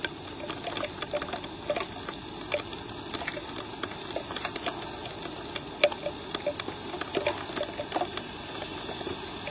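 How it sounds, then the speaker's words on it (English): Water splashing on a wet road along Gulf Shore in North Naples, Florida, a steady faint trickle and spatter with scattered small splashes and occasional sharper drips, fairly distant and low in level. "Sounds like there's a lot of splashing on Gulf Shore"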